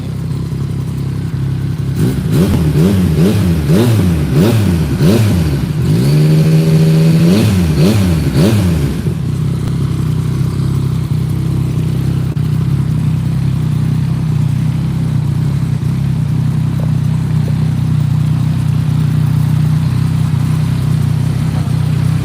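A Yamaha motorcycle with a CP3 three-cylinder engine revs hard in several loud, rising-and-falling bursts, then settles into a steady, close idle for the rest of the clip with no talk.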